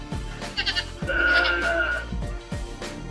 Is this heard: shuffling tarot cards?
no